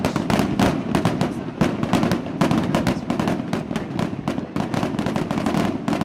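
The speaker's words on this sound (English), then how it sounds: "We can't let it go by without fireworks." July 4th fireworks crackle and pop in rapid, dense bursts, loud and close, continuing without a break.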